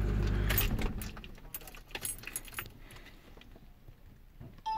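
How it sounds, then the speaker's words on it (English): Ford car ignition switched off with a low engine rumble cutting out, followed by keys jangling and clinking near the dash, with no talking. "now it wants us to turn the ignition off"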